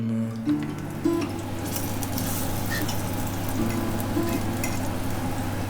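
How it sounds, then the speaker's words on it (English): Plantain fries in an unwashed pan with a steady, close sizzle throughout, broken by a few soft clinks and stirring sounds near the start and middle, with no talking. "So you see the plantain cooks nicely when you don't wash the pan for some reason"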